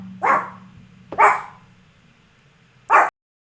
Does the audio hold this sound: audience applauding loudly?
no